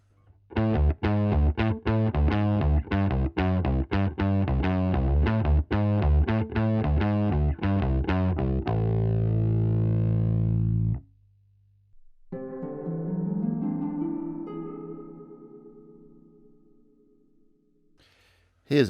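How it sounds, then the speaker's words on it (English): Aria Pro II bass guitar driven through a FuzzBillion fuzz pedal for a heavily distorted tone: a fast run of loud, choppy, buzzing notes, then a sustained growl that cuts off, followed by a quieter gliding note that fades out. "Here's a very distorted sound."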